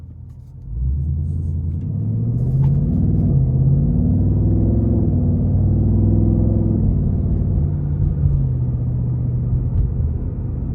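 A deep V8 exhaust rumble from a 2026 Ford Mustang Dark Horse starts up and holds a throaty idle with slight revs, loud and close, no talking.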